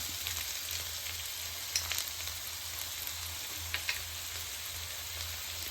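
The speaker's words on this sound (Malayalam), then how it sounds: "നന്നായിട്ട് വഴറ്റി ബ്രൗൺ ഒന്നും ആവണ്ട, കുറച്ച് കളർ മാറിയാൽ മതി." Onions for masala dosa sauté in a pan with a steady, quiet sizzle and a low hum, plus a few brief clinks of the spatula against the pan.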